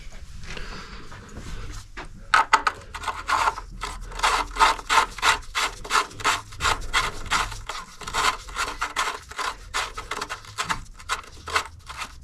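A car's oil drain plug and drain opening are wiped and scrubbed clean, giving a fast, rhythmic rubbing and scraping close by that continues in repeated strokes.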